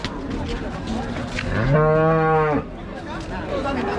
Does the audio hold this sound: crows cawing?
no